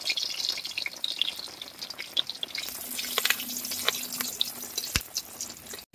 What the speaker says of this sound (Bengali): কড়াইতে আবার সরষের তেল দিয়ে দিয়েছি, আর দিয়ে দিচ্ছি তেজপাতা ফোড়নের জন্য